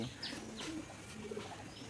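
A restless racing homer pigeon coos softly and gives short chirping calls while being held, with faint rustling beneath the calls.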